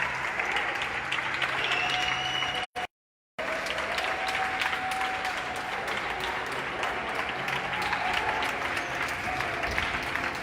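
Nightly balcony applause across Barcelona for medical workers during the crisis: a broad, steady wash of distant clapping and crowd noise from surrounding buildings, with a few faint whistles, continuous apart from one brief dropout.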